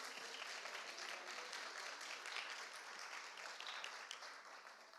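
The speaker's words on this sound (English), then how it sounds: "A round of applause." Conference audience at a Brussels city-planning event applauding, a steady even patter of many hands clapping for several seconds, fairly soft and distant, with no voices over it.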